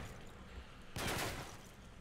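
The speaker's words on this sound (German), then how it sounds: "Bam, bam, bam. Das waren drei Schüsse." Gunfire aimed at a wall in the video game Call of Duty: Modern Warfare 3. It comes as one short, faint burst of rapid shots that fades quickly, with no talking.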